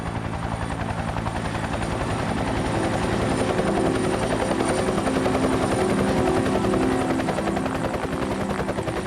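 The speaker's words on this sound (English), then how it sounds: "Helicopter's still one of my favourite sounds." A rescue helicopter flies close overhead, a loud, continuous rotor thump and turbine whine with steady rhythmic chopping that stays constant throughout, with no voices.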